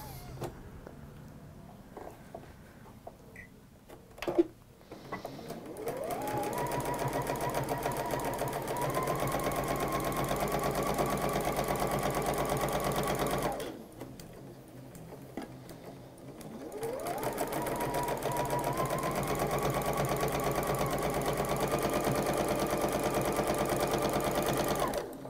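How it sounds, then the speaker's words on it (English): A sewing machine stitches fabric in a home sewing workshop, running in two long steady whirring passes separated by a short pause, loud and close with no talk. "we're going to sew quarter of an inch either side of the line."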